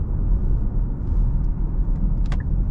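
A 2023 Nissan ARIYA electric car (63 kWh Evolve) merging onto a highway: steady low road rumble and tyre noise from inside the cabin, with a brief faint click near the end.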